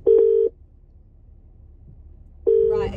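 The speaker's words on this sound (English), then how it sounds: "Right, let's phone Richard." A telephone call is placed and the line answers with two long, steady electronic tones separated by a quiet pause. A voice begins faintly as the second tone sounds.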